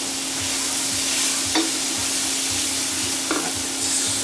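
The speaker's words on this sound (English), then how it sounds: "this needs to saute for about 3 minutes" Chicken dusted with flour sautéing in a pan for stroganoff, a steady, loud sizzle and crackle throughout with a couple of brief utensil scrapes.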